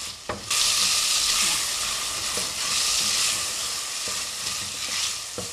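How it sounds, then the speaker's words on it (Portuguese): Shrimp fry in olive oil with salt, chopped peppers and green herbs, giving a loud, steady sizzle with occasional stirring scrapes, close up and with no voices. "Frite o camarão com azeite, o sal, pimentão picado e cheiro verde."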